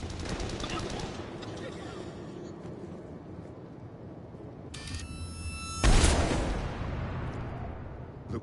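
Sniper and automatic gunfire ring out in a Mass Effect 3 battle, with a burst of shots early on and a loud sharp blast later, trailing into echoing combat noise.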